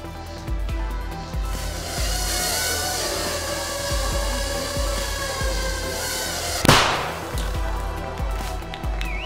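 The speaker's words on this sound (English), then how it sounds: "That little bang is enough to penetrate the skull and destroy the contents." A small shaped explosive charge of about 3 grams detonates with a single sharp, short bang that cuts through a steady mechanical hum and then quickly fades.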